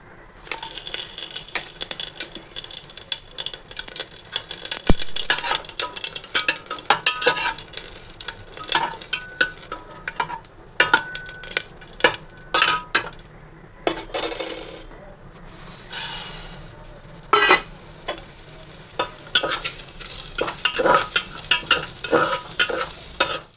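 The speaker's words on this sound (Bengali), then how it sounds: "তো এখানে মুগ ডাল একদম ফোড়ন দিয়ে বসিয়ে দিলাম" Tempered mung dal fries in a pan with a soft sizzle while a spoon stirs and scrapes in irregular bursts, close by, with quieter pauses between strokes.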